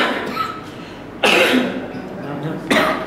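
Two loud, close coughs about a second and a half apart, each a harsh burst that trails off, with a soft voice murmuring before them.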